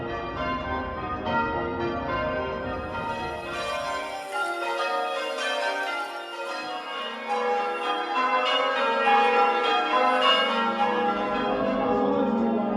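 Church bells rung in sequence by a competing bell-ringing team at a centenary striking competition, a steady cascade of overlapping clear tones ringing continuously and moderately close.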